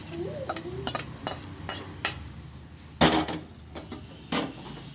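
A pan's contents being tipped onto a plate while making restaurant-style kadai veg, with a series of sharp metallic clatters and clinks spaced irregularly, close and fairly loud.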